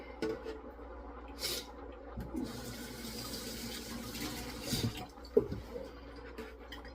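Grated coconut squeezed by hand to press out coconut water for Jamaican rice and peas, a soft wet trickling and dripping with faint splashes, close and quiet.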